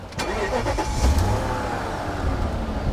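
A 1996 BMW 740i E38 with 207,000 miles cranks briefly and catches, then settles into a smooth, steady low idle heard close up, with no one speaking over it.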